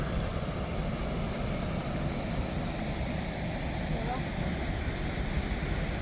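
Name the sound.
Skyfall waterfall in Glencoe, Scotland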